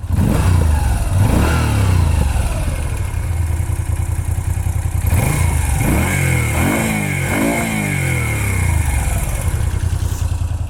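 Moto Guzzi V7 III motorcycle engine and exhaust revving loudly and close by, with repeated throttle blips rising and falling over a steady idle and no talking.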